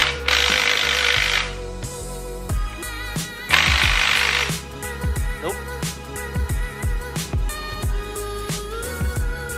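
A socket set working the main bearing caps off an engine, with repeated sharp metallic ratchet clicks and clanks plus two bursts of loud broadband noise, close and alone with no talk.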